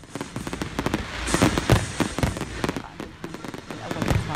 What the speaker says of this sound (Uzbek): Mustaqillik kunida mushakbozlik qilishdi, portlash deb o'yladik.